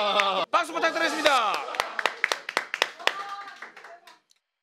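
Scattered hand claps at a competitive eating show break out under excited shouting, then thin into a few sharp individual claps before fading to silence.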